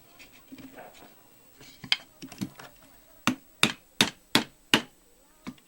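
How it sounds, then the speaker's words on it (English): Tacks are hammered into a wooden canvas stretcher frame: softer taps at first, then about six sharp, evenly spaced, loud, close blows. "and you hammer them down."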